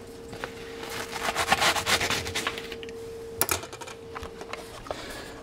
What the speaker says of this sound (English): I'm going to use this to hold on to this while I use the knife to cut it in half